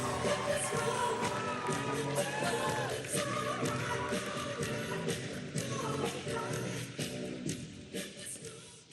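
A large crowd at Howard University in Washington, D.C. cheers and whoops steadily and loudly while welcoming Cedric Richmond at an election-night campaign event.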